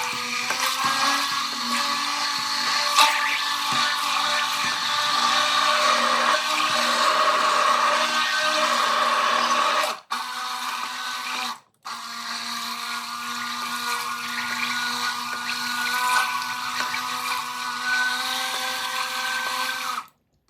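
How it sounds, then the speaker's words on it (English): An immersion blender whirs through rendered lard soap mixture with a loud, steady buzzing hum, briefly cutting out twice near the middle before running on, close up with no voices. "I would definitely recommend using the immersion blender"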